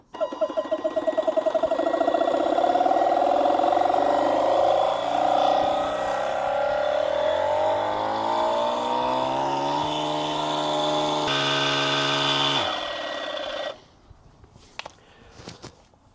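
An ETENWOLF Vortex S6 portable tyre pump inflates a nearly flat tyre from 7 psi toward 30 psi. Its loud, steady motor drone climbs gradually in pitch for about thirteen seconds, then cuts off abruptly, leaving a few faint clicks.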